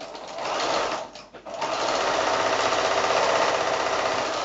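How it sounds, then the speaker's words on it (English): A sewing machine sews a 1/4-inch seam along quilt squares with a fast, even rattling hum, close and loud, stopping for a moment and then running on steadily. "So I'm going to sew that with a 1/4-inch seam down one side"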